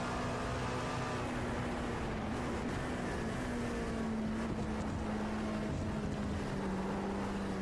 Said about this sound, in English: Head up to the chicane. We'll see how it goes right here with the downshift.